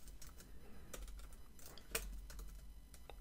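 Someone types on a computer keyboard. Soft, close, irregular keystrokes click in quick bursts over faint background hiss.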